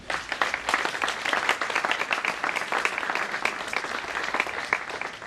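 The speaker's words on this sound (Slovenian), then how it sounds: "prosim še en velik aplavz za naše pevce" An outdoor audience on an urban walk applauds the singers, steady crowded clapping at a moderate distance that carries evenly through the whole stretch without talk.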